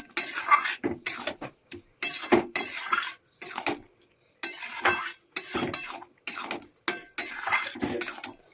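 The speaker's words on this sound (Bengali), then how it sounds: "এবার এটাকে ভালো করে নাড়িয়ে দেবো।" A spoon stirs broken-potato curry (aloo dum with asafoetida and garam masala) in a pot, making close, repeated scraping and clinking strokes in short rhythmic bursts with brief pauses.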